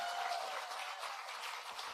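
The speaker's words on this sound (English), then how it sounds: "That deserves a round of applause." A crowd at a speech on student debt relief applauds steadily for about two seconds, a dense, even wash of many hands clapping with little else over it.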